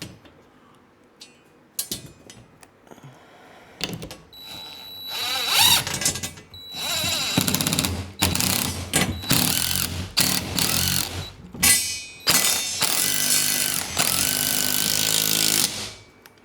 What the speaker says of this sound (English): this is a 1/2 inch driver. So if you want to do it this speedy way like I'm doing, that's what you're gonna need.